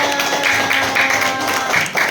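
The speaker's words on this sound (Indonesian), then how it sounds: "Boleh kasih tepuk tangan buat kelompok 2" A classroom group gives applause for a student group, with scattered claps rising and falling in short bursts over a steady background tone.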